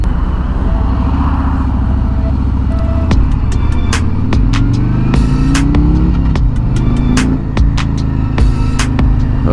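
A 2020 Harley-Davidson Road King Special cruises on a highway, its engine a loud, steady low rumble with shifting pitch as it rolls along, mixed with wind and road noise and a few sharp clicks.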